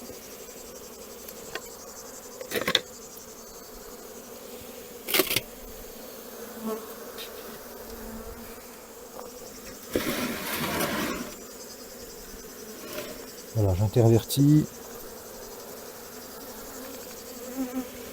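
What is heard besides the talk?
honeybees buzzing while beekeeper merges hive nuclei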